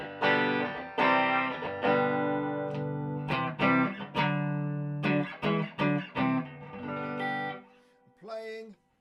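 Squier Classic Vibe Stratocaster electric guitar played through a Behringer Octavia fuzz pedal into the clean channel of a Hiwatt T40 amp, heard alone as a series of strummed, sustained distorted chords with short pauses and a final brief bent note.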